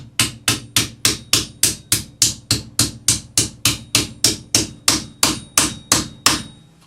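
Rawhide hammer crimping a folded metal cuff bracelet held edgewise on an anvil, about twenty sharp, evenly spaced strikes in a steady rhythm, loud and close with no talking.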